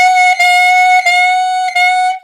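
Clarinet played by a teacher at 90 beats per minute: a loud, bright, reedy tone held on one pitch and broken into a series of short tongued notes with brief gaps.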